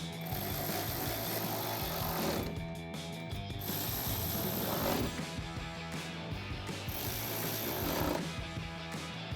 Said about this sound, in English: Next, we can grab our 8mm socket to tighten these all down.